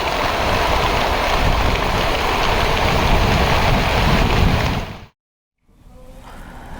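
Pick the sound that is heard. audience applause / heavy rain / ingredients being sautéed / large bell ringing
heavy rain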